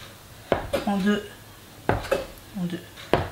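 A knife cuts naan dough into pieces on a hard board, three sharp taps, each followed by a short scrape, close and moderately quiet against faint kitchen background.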